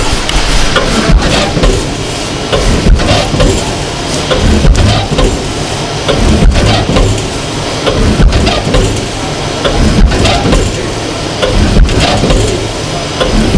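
Biscuit factory machine cutting layered biscuit dough to set sizes, a loud steady mechanical roar with sharp regular thumps about every two seconds, no talk.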